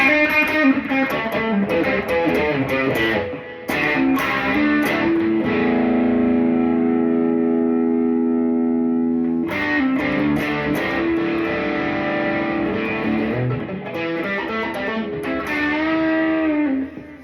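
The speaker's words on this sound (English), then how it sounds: "by using this distortion pedals, you're getting that extra bite that you guys are looking for" Electric guitar played through distortion pedals in an amplifier's effects loop at low volume, sustained chords and single notes ringing with a gritty, saturated tone, played alone with no talk.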